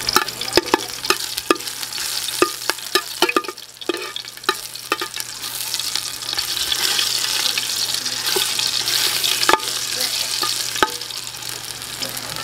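Garlic and ginger sizzle in hot oil inside a pressure cooker, a steady close frying hiss broken by sharp clicks and stirring knocks throughout.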